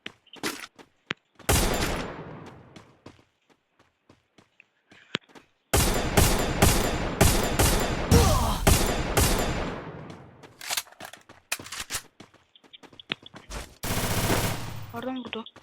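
Gunfire in Free Fire, with loud sustained automatic bursts and scattered single shots separated by quiet gaps, close and punchy, with a voice speaking briefly between volleys.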